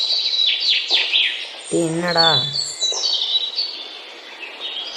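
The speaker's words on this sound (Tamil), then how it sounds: "என்னடா இவ்வளோ குருவி கத்துது?" Sparrows chirp and tweet in quick, bright repeated calls, close and lively, briefly overlapped by a voice speaking.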